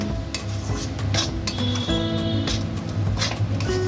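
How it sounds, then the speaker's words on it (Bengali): Semolina being stirred into a carrot mixture for carrot sweets, a spoon scraping and clinking steadily against a metal pan with a faint sizzle underneath, close and continuous, with no talking. "সুজিটা এর সাথে ভালো করে মিশিয়ে নেব"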